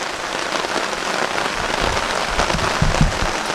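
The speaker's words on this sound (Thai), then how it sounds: "ฝนตกลงมาแรงมากเลยตอนนี้" Heavy rain pouring down steadily on a campsite beside a stream, a dense hiss of drops drumming on a nearby shelter surface, with no voices.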